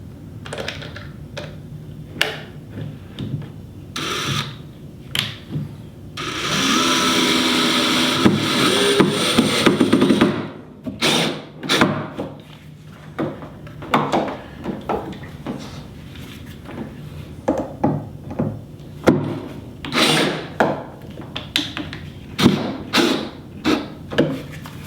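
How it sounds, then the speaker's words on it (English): Screws are driven into wood during a keezer build: a sustained whirring burst of a few seconds from the driver, then many irregular knocks, clatters and handling sounds, close and without talking. "I'm using a screw that's not as deep as the wood because I really don't want to go through the wood."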